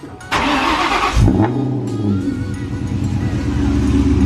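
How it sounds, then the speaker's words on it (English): A Terminator Cobra engine cranks and catches after a burst of noise, then settles into a loud, lumpy, steady idle close by, no talk. "I haven't started this thing in like a good month probably, and she sounds pretty good."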